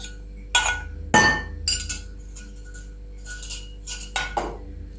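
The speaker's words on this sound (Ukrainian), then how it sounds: "Перемішую." Dough with melted butter being stirred in a bowl, giving a handful of sharp, irregular clinks of a utensil against the bowl, close and fairly loud with quiet gaps between.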